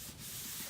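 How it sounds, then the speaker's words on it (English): Paper being rubbed by hand to press down a freshly glued section of a Stampin' Up gift bag, a short, steady, close scuffing sound with no talk. "Rub it a little till it sticks, and then do the same with this one."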